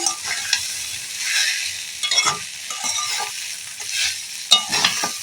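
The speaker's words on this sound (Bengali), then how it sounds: "দু এক মিনিট এইভাবে আমি নেড়ে নেবো" Flattened rice (chira) frying in a pan, stirred with a spatula that scrapes and rustles in repeated bursts over a soft dry sizzle, close and fairly loud.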